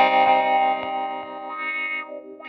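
Electric guitar through a Black Shiny Wah plugin placed after the amp model, distorted sustained notes with a sweeping filtered tone that fades, and a few short picked notes near the end.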